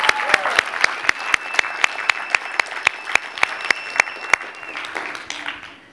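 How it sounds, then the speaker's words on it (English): Conference audience applause, loud, sparse and clearly separated claps beating in a fairly steady rhythm for about five seconds before fading out, with a faint tone held underneath. "Let's give him an applause."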